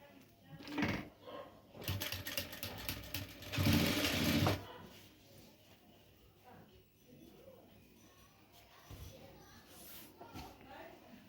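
A sewing machine stitches a handkerchief, running in short loud bursts during the first few seconds before dropping to quieter handling sounds and faint background voice.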